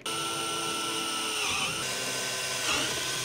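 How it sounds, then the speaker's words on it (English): A power drill whines steadily at close range boring a 1/4 inch hole, its pitch dipping twice as it bites into material, with no talking. "So I'm just gonna drill a hole through here"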